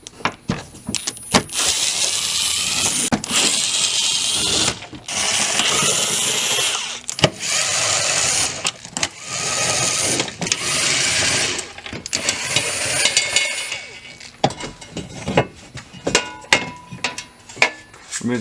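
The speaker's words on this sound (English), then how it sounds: "Remove the 8 16mm bolts holding this brace on." A power tool zips 16mm bolts off a driveshaft brace under an Audi B8 Q5/SQ5, with loud sustained buzzing bursts separated by short pauses, clanks and rattles of metal.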